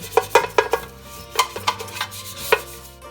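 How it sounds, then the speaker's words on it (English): Brush scrubbing a Philips air fryer basket, with a string of short, close scraping and clattering strokes against the metal mesh, uneven in rhythm, with no talk. "Then use a brush, softer one preferred. Scrub the particles so that it's easily removed."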